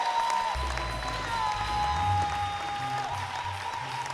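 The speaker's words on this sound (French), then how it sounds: "Est-ce que tu peux acclamer très fort le Seigneur?" Church congregation applauding and cheering for the Lord during a French-language sermon, a steady wash of clapping and crowd noise with a sustained musical tone underneath.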